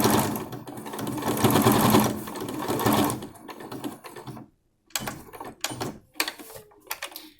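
A sewing machine stitches over folded tucks on a fabric face mask, running in a steady close burst for about three seconds, then starting and stopping in short spurts with brief pauses between.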